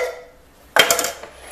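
Drained canned white potatoes tossed into a crock pot, one sudden close clatter and thud of the pieces landing, then a short fading rattle, with no talk.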